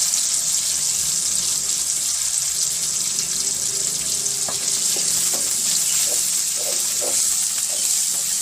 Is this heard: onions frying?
yes